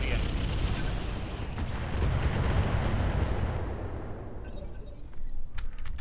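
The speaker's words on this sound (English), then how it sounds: "Firing on the enemy." Heavy weapons fire against an enemy battlemech in the strategy game Roguetech rumbles as a sustained, booming barrage of deep artillery-like blasts, loud and continuous, settling into sharper crackles near the end.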